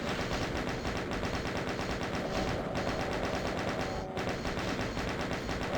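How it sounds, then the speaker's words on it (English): Chain gun firing in the DOOM video game, a loud continuous rapid stream of gunfire without pause, dense and harsh throughout. "Okay, take out the chain gun here."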